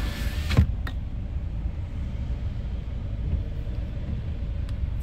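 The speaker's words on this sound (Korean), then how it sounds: "차 소리 시끄럽나요?" Car noise heard from inside a vehicle, a steady low rumble of road and engine throughout, with a brief thump and click near the start, close and continuous, no talking.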